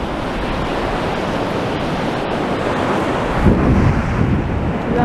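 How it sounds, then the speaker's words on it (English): High-tide waves surging onto Blackpool promenade, driven by strong wind, make a continuous loud roar of surf and wind buffeting, with a heavier wash swelling in near the end. "it's supposed to be a relatively high tide, and there's a good old wind bringing it in"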